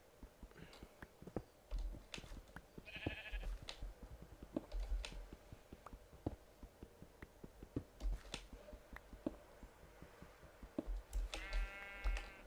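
Sheep in Minecraft on a Forgecraft modpack server give a few short synthetic bleats, near and moderately loud, around the three-second mark and again near the end, over a busy bed of clicks and tapping.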